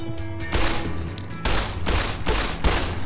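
Shotgun blasts in Fallout New Vegas, four heavy booming shots spaced roughly a second apart, each with a long rumbling tail, loud and near with no speech.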